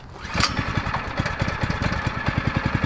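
A 6.5 HP Honda lawn mower engine fitted to a sport bike, starting up and settling into a loud, close, rapid chugging idle with an even pulsing rhythm.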